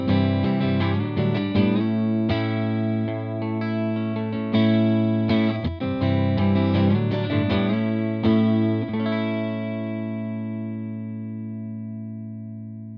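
Electric guitar played through a Ceriatone British-style 18-watt amp with the echo pedal bypassed: strummed, ringing chords with a slightly overdriven tone for about nine seconds, then a long sustained chord slowly fading out.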